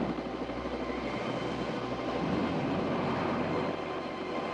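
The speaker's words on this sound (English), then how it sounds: "A jet helicopter is fast enough to keep up." A jet helicopter flies overhead in a film trailer scene, a steady whirring rotor and turbine drone at moderate distance, continuous and even throughout.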